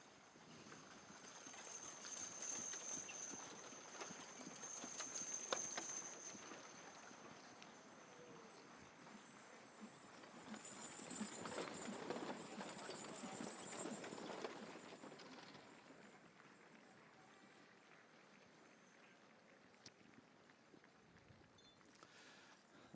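Suffolk heavy horses' hooves clip-clop across a show ground, a steady broad patter that builds twice in soft surges amid open-air crowd ambience, with no close voices.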